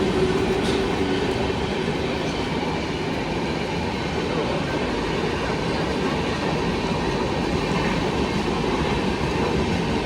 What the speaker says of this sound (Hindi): बाकी कोई तो ट्रेन अभी क्रॉस होने वाली आवाज़ जो है वो आ रही है